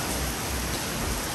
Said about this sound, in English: No, it's raining, come on.